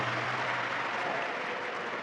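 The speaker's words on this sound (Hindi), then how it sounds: "एक बार जोरदार ताली बजाकर साथ में" Loud, dense clapping from a large crowd at a live Shiv Mahapuran religious discourse in Bhilwara, a steady roar of applause filling the space without pause.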